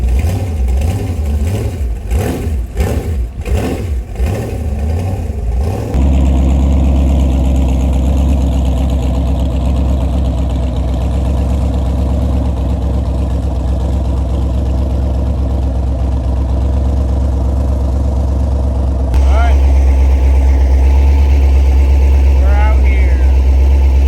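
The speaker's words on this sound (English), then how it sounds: "Chattering on the lifters." A jet boat engine idles loudly and continuously on a private lake, a deep, rumbling drone with a rapid ticking chatter from the lifters, sharper bursts at the start and a slight rise near the end.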